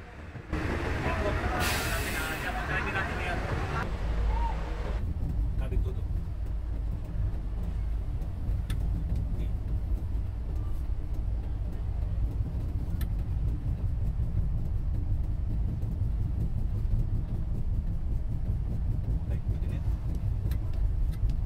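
A bus drives along the road toward the terminal, its low steady engine rumble and road noise continuous throughout, with a brief louder burst near the start and a person talking over it.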